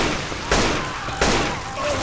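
Gunfire from fire bullets in Left 4 Dead 2, with two loud, sharp shots about three-quarters of a second apart and a third starting at the end, each trailing off into echoing game noise.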